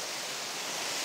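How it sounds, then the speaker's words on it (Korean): Water flows with a constant broadband rushing wash, steady and fairly quiet, with no other sounds over it. "이 흐르는 물소리가"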